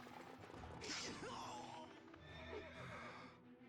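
Horse in the 3DS game Fire Emblem Awakening giving a loud, shrill whinny, with clip-clopping hooves and soft thuds before and after, fairly quiet overall.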